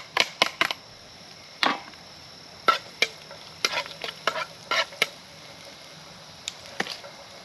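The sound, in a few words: garlic and onion sautéed for pancit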